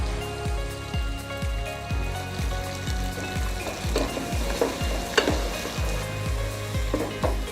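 Tomatoes added to a paneer gravy sizzle in the pan while a spoon or spatula stirs in a quick, regular rhythm of taps and scrapes over a steady frying crackle, with no talking.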